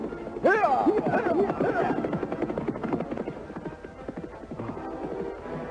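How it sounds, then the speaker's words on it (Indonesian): Horses galloping in a dramatized historical scene, hooves clip-clopping in a steady, dense patter with a neigh-like cry at the start, all fairly loud and close. "Mereka menunggang kuda yang jauh lebih baik."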